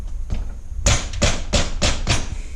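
Rubber mallet tapping on a 1988 Suzuki RM 125 engine during a teardown, five dull, solid thumps in a steady rhythm after a faint first tap, close and fairly loud.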